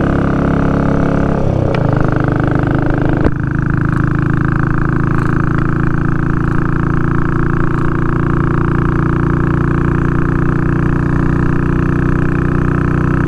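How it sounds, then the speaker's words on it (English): A Royal Enfield 350 Bullet motorcycle cruises at speed in top gear, its loud, steady engine drone thick with wind rush and with no pause or change in pitch. "Listen to that engine."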